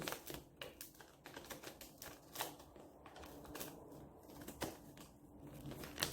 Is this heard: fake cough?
no